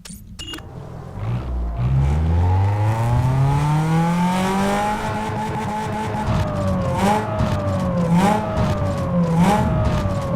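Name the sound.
car engine hitting the rev limiter in Need For Speed Underground 2 video game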